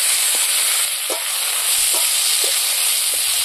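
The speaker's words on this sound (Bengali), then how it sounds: "দেখুন পেঁয়াজগুলো লাল লাল ভাজা হয়ে গেছে।" Chopped onions frying in oil with black cumin seeds, a loud close hiss of steady sizzling with a few soft stirring scrapes and no voices.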